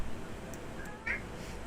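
A cat in the Sims 2 gives one short, fairly faint meow about midway, alone over a quiet game background.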